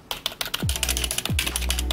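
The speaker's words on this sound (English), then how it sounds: "It made my membrane keyboard so much quieter compared to the regular switches" Rapid typing on a membrane keyboard packed with thermal paste, a steady stream of soft, close clicks and taps with two low thumps mixed in.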